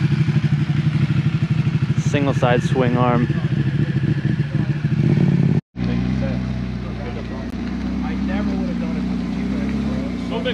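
A Ducati motorcycle with a Termignoni exhaust roars loudly and steadily nearby at a cars and coffee meet, with someone talking over it before a brief cut, then the engine rumble continues under more talk.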